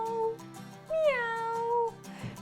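A human voice imitates a cat meowing for attention, a drawn-out rising-and-falling meow sung clearly and alone over faint background music.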